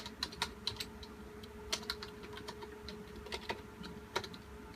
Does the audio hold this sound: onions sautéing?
no